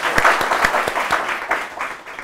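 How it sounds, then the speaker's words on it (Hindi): A studio audience gives a burst of enthusiastic applause at a television business show, dense clapping with distinct sharp claps on top, steady and close, fading slightly toward the end. "आइए मिलकर उनका स्वागत करते हैं जोरदार तालियों के साथ।"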